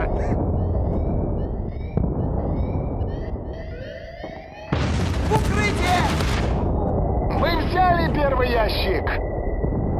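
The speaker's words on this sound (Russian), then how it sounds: "Граната! Граната!" A grenade blast goes off amid Battlefield: Bad Company multiplayer combat on the Gold Rush map, a loud broadband burst mid-clip over steady gunfire and battle noise, with a voice shouting in the mix.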